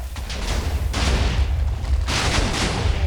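A dense chain of Minecraft TNT blocks detonates, over a hundred charges going off in a loud continuous rumbling barrage with overlapping booms and surges of crackling blasts.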